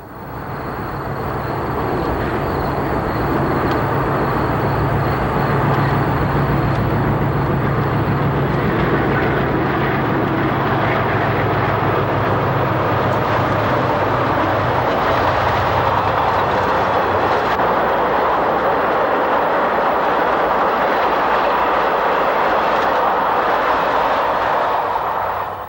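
A Norfolk and Western passenger train behind diesel locomotives rumbles past steadily on a curve at Nottoway, Virginia, a loud continuous roar of wheels and engines with a low drone underneath and no voices.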